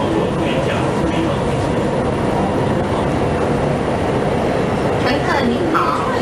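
A Dalian light rail Line 1 train running between stops, with a steady, loud broadband rumble and rattle throughout, interior cabin noise and faint voices mixed in.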